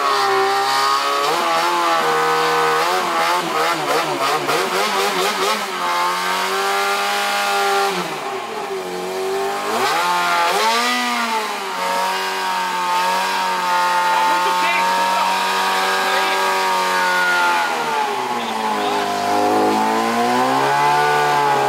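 Jaguar XJ6 exhaust roaring as the car revs hard and holds high rpm, with rising and falling engine pitch, loud and near, and voices faintly under the noise.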